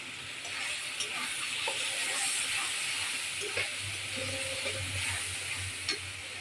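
Chili and cumin powder frying in hot oil in a pan for a Bengali prawn and vegetable dish, giving a steady close sizzle and hiss with occasional stirring clinks and scrapes, no talking.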